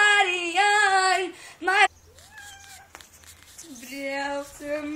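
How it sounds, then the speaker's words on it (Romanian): A cat meows loudly several times in close succession, with drawn-out harmonic calls, then a short pause and more meows, while a person speaks briefly in between. "Oh, dar stai, o pisicuță!"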